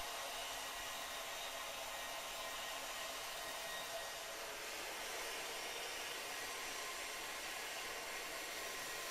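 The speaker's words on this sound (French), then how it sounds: "on voit bien que ça commence déjà à bien polir au-dessus" Rotary soft-bristle brush polishing aluminium metal, a steady, loud whirring hiss that holds constant throughout with no pauses.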